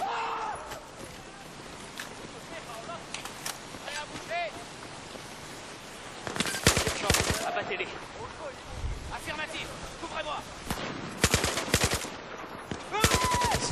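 Burst gunfire from a weapon in the Battlefield 4 solo campaign crackles in several sharp clusters of rapid shots, some close and loud, over a low ambient background with a voice speaking at times.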